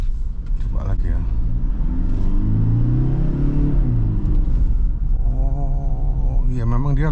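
Toyota Fortuner 2.8 GRS diesel accelerating on a road, a loud, close cabin rumble with the engine note climbing then easing, while people talk over it.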